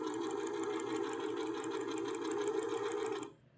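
Sewing machine stitching a quarter-inch seam on a quilted table runner, a steady close whirring drone for about three seconds that stops abruptly.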